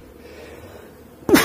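A single sharp, loud sneeze bursts out at the very end after a stretch of quiet, from a beekeeper inspecting a colony in an Alpine hive in September.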